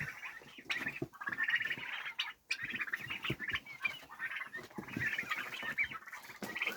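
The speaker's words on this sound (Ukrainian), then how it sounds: "А ось і індики." Busy turkey chatter from several birds close by, with overlapping gobbles and clucking calls in a steady jumble.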